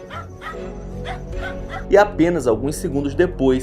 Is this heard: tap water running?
no